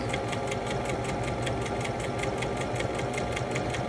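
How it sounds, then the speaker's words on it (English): Brother SM2700 sewing machine stitching along fabric, running with a fast, even mechanical whir and regular rapid needle clicks throughout, close up and steady, with no talking. "now I'm going to continue sewing forward until the end of my fabric"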